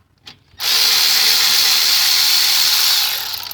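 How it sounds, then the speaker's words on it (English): Electric impact wrench with a 14 mm socket removing a front brake caliper bolt on a 2018 Kia Stinger, a loud, steady, close buzzing hammer that runs continuously for about three seconds after a brief click. "14 millimeter socket. And I use my electric impact. So basically they just come out like this."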